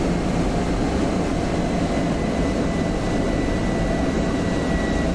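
A jet fighter in the DCS flight simulator, a steady, loud, continuous engine and airflow roar with no talk over it.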